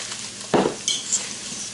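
Floured, seasoned stew meat for Irish stew is tossed in a pan, making a short rustling clatter with a light scrape and clink of a utensil, close and fairly soft.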